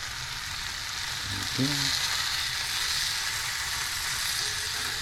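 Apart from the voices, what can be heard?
peppers sizzling in a frying pan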